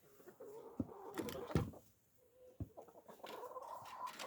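Backyard hens cluck softly and intermittently alongside a rooster, with scattered close calls over low farmyard background noise.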